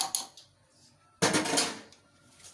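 A lid is set down with a single sharp clatter over a pot holding garlic stirred into oil, followed by a short ringing tail; a few faint light knocks come just before it.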